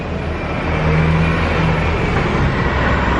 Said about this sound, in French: on est en train de monter une colline et il y a un bus